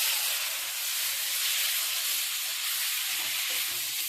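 Boiled whole green moong dal goes into a hot pan for tarka dal, producing a loud, continuous hissing sizzle that barely changes, close and steady, with faint low clatter beneath and no talking.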